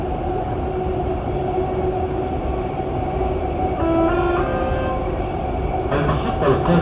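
Dubai Metro Green Line train running along the track, a steady loud rumble with rising tonal whine and clicking toward the end, no voices.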